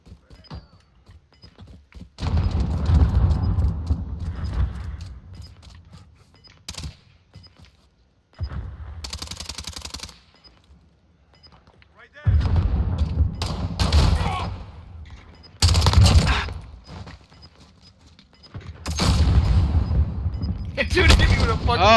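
Hardcore Team Deathmatch gunfire from Call of Duty Modern Warfare on Arklov Peak, heard as several loud bursts of shots and thuds separated by quieter gaps, with someone talking in between.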